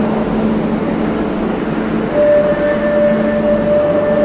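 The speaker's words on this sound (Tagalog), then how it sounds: "ayan yung train na sinakyan natin, guys." A train in Barcelona rolls along with a loud, steady rumble and a sustained electric whine rising partway through, heard from close by without talk.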